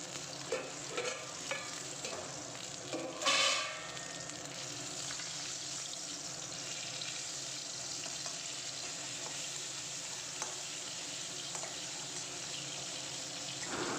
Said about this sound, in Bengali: এই যে মাছ ভাজছি